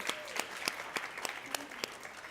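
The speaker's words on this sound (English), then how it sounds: "round of applause for that" A healthcare conference audience claps during a cooking demo, producing a modest spread of sharp, fairly evenly spaced claps that sound like a smallish crowd at moderate distance.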